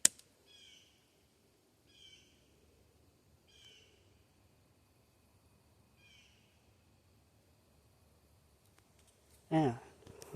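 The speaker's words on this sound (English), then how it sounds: "at least one bird's chirping" A bird chirps on a hiking trail at Boxcar Rocks: four short, high calls spaced a second or two apart, faint against a quiet outdoor hush, followed by a brief burst of a person's voice.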